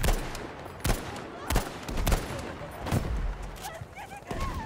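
M1 Garand rifle fire in Battlefield V during a tank fight, several sharp separate shots spaced about a second apart, loud and close.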